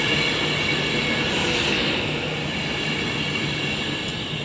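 A train passes at Crewe on the West Coast Main Line, a loud sustained rumble with steady roar and faint high squealing tones from the rails, no voices.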